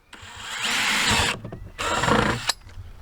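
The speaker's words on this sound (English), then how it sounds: "So we're going to be going with our 23/64 on this first hole" Two bursts of a power drill boring a 23/64 hole into a plastic bucket, each whining for about a second with a gap between, loud and close, with no talk.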